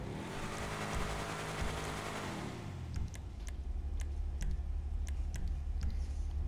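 Car engine idling and revving in a Grand Theft Auto DLC video game, a loud rumbling drone that settles into a low hum joined by a series of light regular ticks, with no talking.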